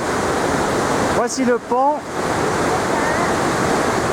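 Broadband rushing of a mountain river flowing beneath a bridge on a trek across a valley in Nepal, steady and fairly loud throughout, with someone briefly speaking over it midway.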